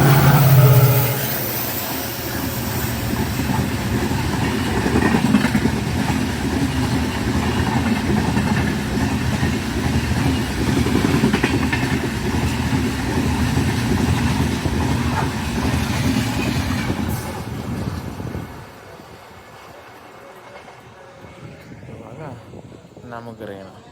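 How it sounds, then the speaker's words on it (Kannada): A KJM diesel locomotive pulls a train past at a crossing, a loud, steady engine rumble with wheel clatter that holds for about eighteen seconds and then drops away to quiet background, with voices heard over it. "so KJM diesel engine"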